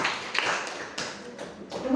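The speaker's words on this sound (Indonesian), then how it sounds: "Iya, beri tepuk tangan." A classroom of students clapping their hands together during a lesson, a brief scattered burst of close claps with voices murmuring underneath.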